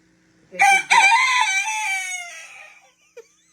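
A rooster gives one loud, close crow, a sharp two-part start trailing into a long drawn-out call, followed by a brief faint cluck, against otherwise quiet surroundings.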